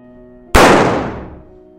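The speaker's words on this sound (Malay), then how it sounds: "Jom ikut saya menembak sasaran." A single sharp, loud shot at a Khaosan Road target shooting stall cracks out and decays over about a second against faint background hum.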